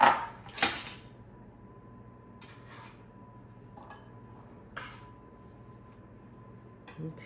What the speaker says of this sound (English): I'm going to get another bowl here.